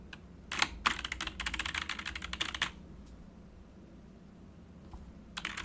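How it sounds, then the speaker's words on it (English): Rapid typing on a computer keyboard comes in a dense burst of quick clicks for about two seconds, then quiet room tone with a couple of isolated key taps and a short final flurry, close and fairly soft. "Can you hear the keyboard?"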